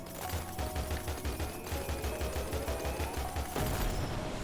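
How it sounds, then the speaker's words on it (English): Rapid spell shotgun blasts from the game Littowl Witch Avery, a fast, steady stream of clipped bursts fired in a dense rhythm against a bright, busy backdrop of game music and effects. "They have, like, spell shotguns."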